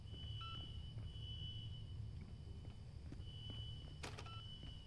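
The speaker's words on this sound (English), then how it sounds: "I'm hearing beeping." Electronic beeping at a water treatment facility, a thin repeating tone sounding intermittently over a steady low mechanical rumble, with a brief sharper burst near the end.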